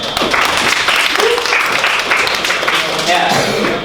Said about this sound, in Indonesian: Ya, tepuk tangan untuk mereka.